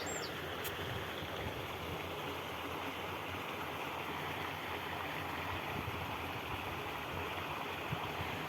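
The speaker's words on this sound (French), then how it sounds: "Je suis au bord d'un ruisseau" A small stream flows steadily nearby, an even close rushing babble of water with a faint bird call near the start, no voices.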